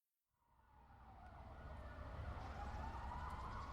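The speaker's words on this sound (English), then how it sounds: "Ethel could hear the growing cacophony of sirens from" Sirens of emergency vehicles rise out of silence and grow steadily louder, wailing over a low rumble of traffic.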